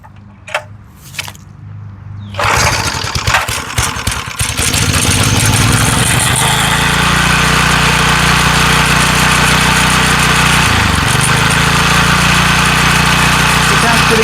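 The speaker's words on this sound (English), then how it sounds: "let's test her out and see what we've got. So we're going to set full choke." McLane edger small engine after a carburetor rebuild, heard with a few quiet handling clicks, then pull-start attempts and the engine catching into a loud, close, steady running drone that holds with a slight dip in pitch later.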